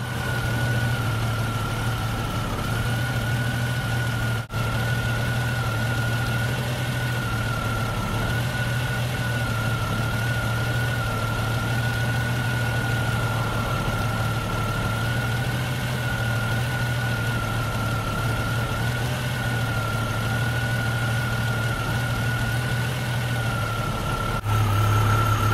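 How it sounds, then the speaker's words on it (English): A car engine idles steadily with a constant low hum and a faint whine, unchanging for the whole stretch with no talking. "let me start the engine just so you can get a good view"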